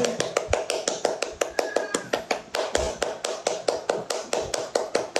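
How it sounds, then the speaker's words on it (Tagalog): Hands clapping in a quick, steady rhythm, a long run of crisp close slaps with no talk over them. "Hindi, palakpak yun."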